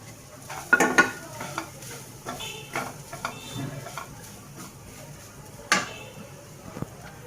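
Grated coconut for puli pitha filling is stirred in a pan, giving sparse scrapes and clinks of a spoon against metal over a faint sizzle, with two sharper knocks standing out; no talking.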